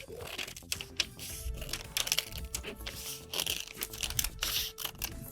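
Scissors cutting away excess paper from a sewing pattern for a cardigan vest armhole, a close, steady run of crisp snips with paper crinkling and rustling throughout.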